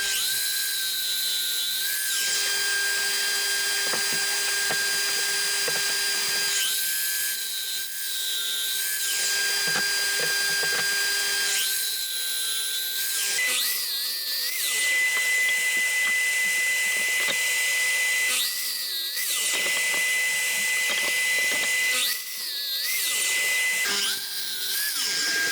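A Festool power tool cuts wooden pieces for a workbench leg frame, sending out repeated high whining bursts as each cut starts and finishes, separated by brief lulls of motor hum. The tool is loud and close, with no talking.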